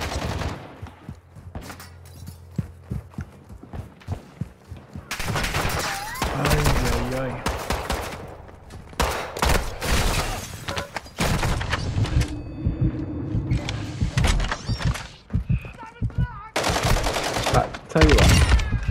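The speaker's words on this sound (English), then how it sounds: "I'm getting shot at a lot." Gunfire in the video game Almazra Raid comes in loud intermittent bursts of rapid shots, with scattered heavy booms between quieter gaps, while a voice talks at times.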